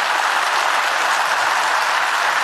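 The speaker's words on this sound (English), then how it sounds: "I ask you please to applaud the staff of the European Parliament and the institutions" Sustained applause from a large assembly in the European Parliament chamber, a dense steady clatter of many hands filling the room with no break.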